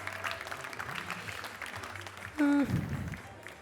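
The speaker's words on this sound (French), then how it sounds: "On peut l'applaudir." Faint applause from an audience at a cocktail competition, soft and diffuse beneath voices talking, with a brief louder tonal burst partway through.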